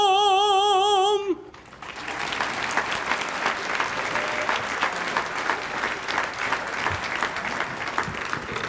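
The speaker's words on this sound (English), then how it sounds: "Let's give a round of applause for these here recipients." An audience at a community prayer breakfast bursts into sustained applause right after a sung ending fades out, with dense clapping that carries on steadily for several seconds.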